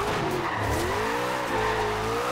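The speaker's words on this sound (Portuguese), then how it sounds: "Podia tentar fazer um drift em volta dessa." In the racing game Forza Horizon 2, a Dodge Charger R/T drifts with a loud, sustained tire squeal that wavers in pitch over continuous engine drone, with no talking.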